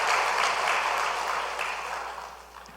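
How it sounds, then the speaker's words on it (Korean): Church congregation at a Sunday service applauds after a choir song, brief full clapping that tapers off within about three seconds. "우리 다시 한번 박수로 쳐드리겠습니다."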